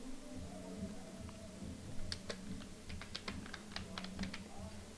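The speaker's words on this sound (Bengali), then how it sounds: "এখন নাম দিতে হবে, এখানে ফুল নেম ধরুন দিচ্ছি আল আমিন," A full name typed on a computer keyboard, a quick run of faint, crisp key clicks in uneven bursts over a low background hum.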